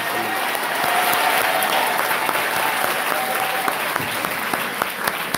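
A congregation at a revival deliverance prayer service bursts into sustained, dense applause, a steady wash of many hands clapping together for the whole stretch, with faint cheering voices mixed in.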